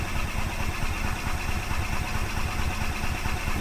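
Gas engine of a 2005 Club Car Precedent golf cart, started after sitting five years, runs at a steady idle with a dense, even putter that stays loud and close throughout with no voices.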